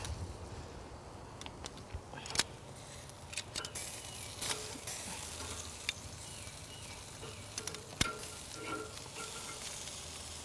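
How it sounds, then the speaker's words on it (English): Onions sizzle on a grill while being flipped, a soft continuous hiss with occasional sharper clicks and scrapes from the turning. "I'm actually gonna flip around my onions one more time."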